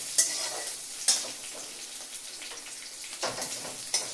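A tempering of curry leaves, green chilli and grated ginger sizzles softly over a low flame for carrot upma, a continuous gentle fry broken by a few sharp spoon taps against the pan.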